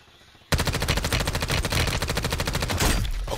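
Rapid automatic gunfire from a first-person shooter game weapon, a dense sustained burst of close, loud shots after a brief quiet start, with no talking over it.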